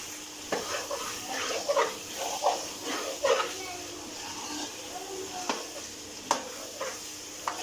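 Chicken with potatoes and masala is stirred in a pan with a soft sizzle, as a series of scraping, slapping strokes sounds at close range over a moderately quiet background.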